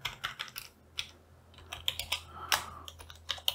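Keys on a computer keyboard clatter in quick irregular bursts while code is typed, the clicks close and fairly quiet, with brief pauses between runs and no talking.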